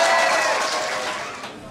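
Guests at a mock wedding staged by a GAA club applauding, a dense crowd clapping that stays loud and steady throughout the short burst and fades slightly at the end.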